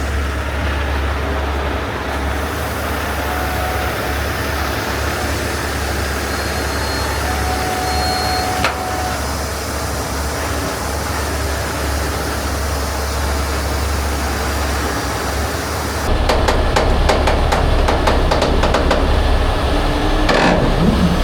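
A crane booms up and extends while lifting a 55,000 lb unit, with a loud, continuous engine roar that holds steady and then grows harsher and louder near the end.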